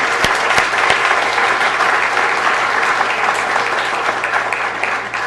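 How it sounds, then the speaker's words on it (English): Loud, sustained applause from the audience at a city council meeting in honor of Godinez High School, dense clapping filling five seconds with no talk over it. "So let's give Godinez High School a big round of applause."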